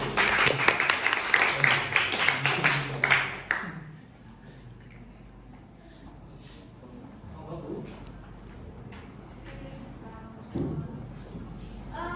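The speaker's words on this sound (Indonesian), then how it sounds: "Tepuk tangannya dulu." An audience applauds after a student branding presentation, dense clapping lasting about three seconds before stopping abruptly, followed by quiet room tone and faint voices.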